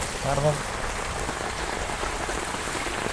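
Heavy rain falls steadily as a dense, even hiss of drops striking surfaces nearby, with a brief faint voice near the start.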